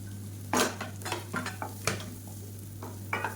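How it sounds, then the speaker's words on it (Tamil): Chopped onion and green chili being stirred and sautéed in a pan while cooking a ragi soup, with repeated scraping and clinking of a utensil against the metal over a soft sizzle and steady background hum. "இப்போ இதையும் சேர்த்து நல்லா வதக்கி விட்டுக்கலாம்"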